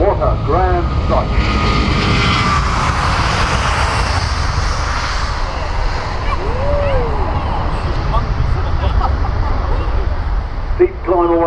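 Airbus jet airliner making a steep climbing departure at the Farnborough Airshow 2014, a loud sustained jet roar filling the whole stretch, with people talking and a bird call or honk faintly over it.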